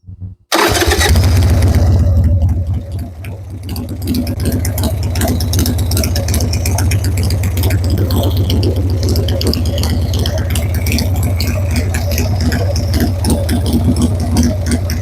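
A motorcycle engine catches after a brief start and then runs at a steady, loud idle for the rest of the time, close by and alone, while its carburetor is being tuned.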